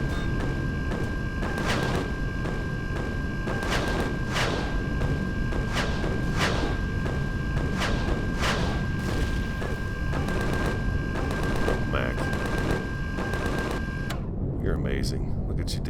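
Enemy gunfire in the space survival game Empyrion Galactic Survival, a rapid string of sharp thuds and booms repeating every second or so over a steady electronic hum, with someone talking over it.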